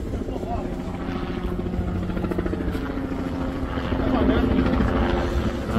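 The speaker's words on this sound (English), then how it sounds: "The helicopter flying over." A helicopter flies overhead outdoors, its steady low rotor rumble and whine filling the scene and growing slightly louder toward the end, with voices talking underneath.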